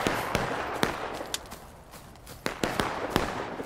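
Scattered musket shots crack in a Civil War video game battle during a Pickett's Charge event. Sharp single reports come at irregular intervals, some close and some farther off, over a low background rumble.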